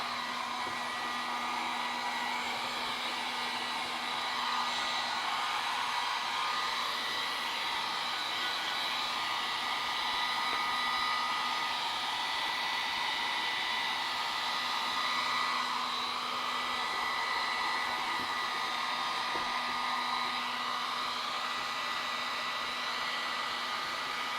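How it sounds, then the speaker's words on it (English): A hair dryer blowing steadily up close, a constant whirring hum and airy rush that barely changes over the whole stretch. "The blow dryer."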